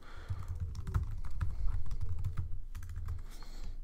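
Fingers type a note on a Mac keyboard in a quick, steady patter of soft key clicks, close-up with a low background hum and no voices.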